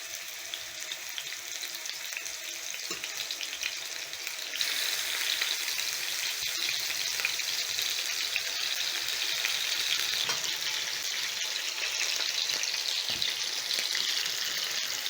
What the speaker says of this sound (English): I'm going to sear my pork chops for around 2 to 3 minutes on each side